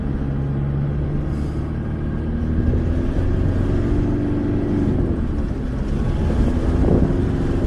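Strong wind buffets the microphone on a sand dune, a steady broadband roar with low rumbling gusts and a vehicle engine droning underneath throughout.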